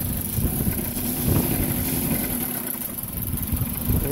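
A 2004 Dodge Neon SXT with a 2.0-liter engine and new transmission mounts, idling in reverse and given a little gas, a close, steady rumbling engine hum that swells slightly and then settles.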